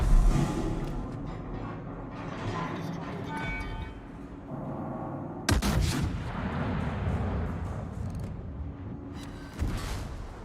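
Naval guns firing in the video game World of Warships: a sudden loud booming salvo midway, then rumbling echo and another fainter blast near the end, over continuous game background noise.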